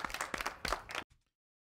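A small group of people clapping in a short, scattered burst that stops abruptly after about a second, with no talk over it.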